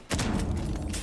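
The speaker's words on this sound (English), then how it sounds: "They hear explosions possibly coming from container" Explosions in the tactical shooter Rainbow Six Siege: two sharp, heavy blasts about a second apart, loud and booming, with a rumbling tail between them.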